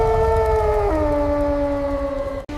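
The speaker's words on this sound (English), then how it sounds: "The black wolf howled" A black wolf howls in fury as a story sound effect, one long sustained wailing tone that drops slightly in pitch partway through and holds loud over a rumbling low bed before cutting off abruptly.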